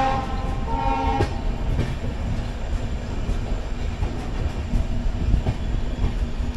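Onboard the 16218 Shirdi–Mysuru Weekly Express, a steady loud rumble of wheels on rails fills the whole stretch, with rhythmic clicks and clatter from the coaches and no speech.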